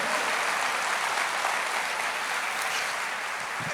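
A church congregation claps in steady, dense applause during a sermon on the power of praise, the broadband clatter holding at a constant level throughout with no speech over it.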